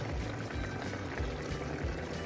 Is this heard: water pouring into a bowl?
yes